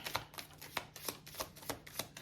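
Tarot cards being shuffled in a steady rhythm of soft riffling bursts, about eight in a row, close and fairly quiet.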